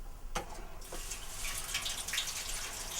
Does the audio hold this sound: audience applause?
no